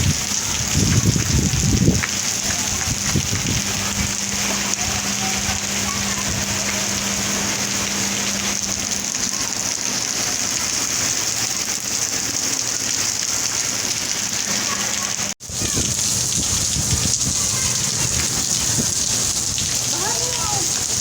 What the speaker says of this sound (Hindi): बाहर और बहुत तेज़ी की बारिश हो रही है।